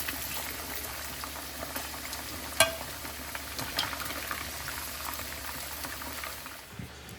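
Spiced food frying in a pan in a home kitchen, a constant bubbling sizzle close by with one sharp clink partway through, no voices.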